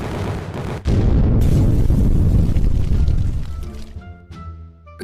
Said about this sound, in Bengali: আমি এখানে দেরি না করে তাড়াতাড়ি স্টিকি বম লাগিয়ে দিয়েছি। এখন তাড়াতাড়ি এগুলোকে ব্লাস্ট করা যাক।